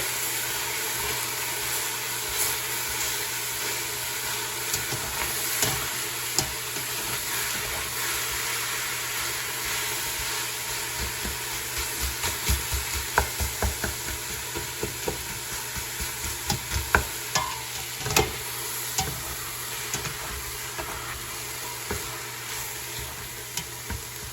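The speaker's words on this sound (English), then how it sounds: "So now it is sizzling, the pot is heated" Steady sizzling of meat in a hot pot over medium-high heat, with intermittent scraping and stirring clatter, growing busier midway, no talking.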